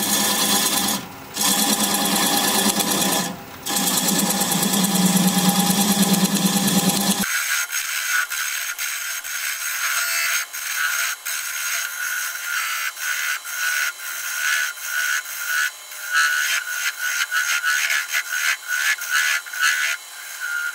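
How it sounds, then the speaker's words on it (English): Red cedar being turned on a wood lathe at 550 RPM while a 3/8-inch bowl gouge removes the tenon, giving a steady buzzing, scraping cut with short pauses where the tool lifts off, close and fairly loud with no talking. "We're going to be turning at 550 RPM. We're removing the tenon. I'm going to use a 3/8 inch bowl gouge."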